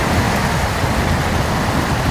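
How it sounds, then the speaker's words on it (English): Heavy rain pours steadily over an outdoor venue during a CONCACAF women's under-17 qualifier football match, a dense, continuous broadband hiss with no pauses from start to finish. "As we see, the rain is really down."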